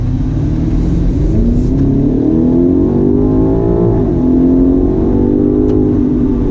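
A 2019 BMW M5 Competition sedan accelerates out of a right-hand bend, its engine note rising steadily and loud from inside the car, with a brief dip before climbing again.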